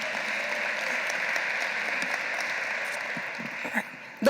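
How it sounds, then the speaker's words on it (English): Audience applause at a Carl B. Stokes Day ceremony, steady sustained clapping from a crowd throughout, fading near the end. "Let's give another round of applause for Cornell and Jovan"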